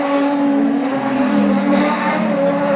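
A production sedan race car engine roars steadily as it comes around the track, loud and sustained with a droning, buzzing tone and no pauses.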